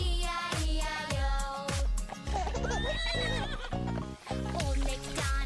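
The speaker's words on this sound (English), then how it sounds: "With a neigh-neigh here and a neigh-neigh there" Over a bouncy children's nursery song, a horse whinnies with rising and falling squeals in the middle of the passage, mixed with clip-clop beats and music.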